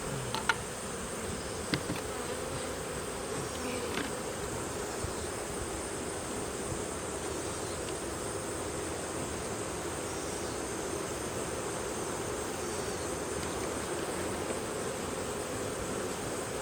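Honeybees swarm around an open hive during an October fall inspection, their buzzing a dense, continuous drone that is close and steady throughout, with no talk.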